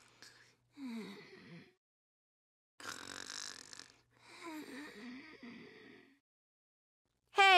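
A video game character from BlazBlue: Continuum Shift Extend snores in a voiced, exaggerated way, with several drawn-out wheezy snore breaths separated by short silences, close and clear, then a sudden sharp sound at the end.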